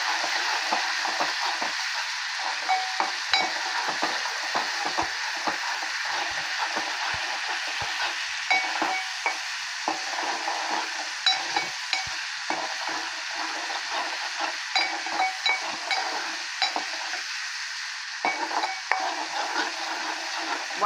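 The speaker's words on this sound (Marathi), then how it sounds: "हे वाटण आहे ते छान तेलामध्ये परतून" A green paste of ginger, garlic, coriander and green chili sautés in hot oil for a pomfret gravy, giving a constant close sizzle with frequent small scraping and stirring taps from a spoon, and no voices.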